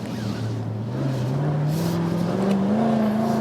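A Jaguar F-Type V8 P450 convertible accelerates in second gear, its engine note climbing steadily and loudly from close by as revs build without a shift.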